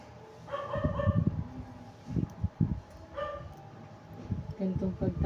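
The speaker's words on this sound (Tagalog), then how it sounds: "Ingay na naman yung mga aso." Several dogs bark and yip in bursts, moderately near, with short barks clustered in quick runs and pauses between, alongside some background voices.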